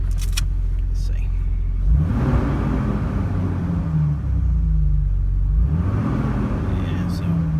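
A repaired 2001 Jeep Wrangler TJ engine runs with a deep, steady rumble, revving up twice in smooth swells before settling back to idle, close and clear throughout.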